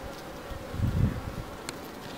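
Honeybees in a beehive hum softly and close by during a frame inspection, a low buzz that swells briefly in the middle, with no talking.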